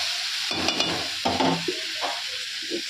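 Spices stir-fried in a home kitchen pan give a bright, close sizzle, with several bursts of scraping and clattering as the mixture is stirred and nobody speaking.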